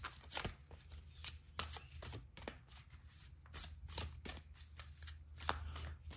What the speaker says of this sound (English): Let's get some tarot cards and see what other messages Kali has for you at this time.